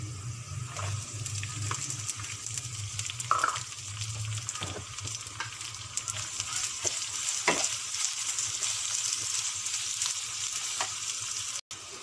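Onion sautés with browned garlic in a pan for spaghetti sauce, a steady, fairly faint sizzle with occasional stirring taps, alone with no voices.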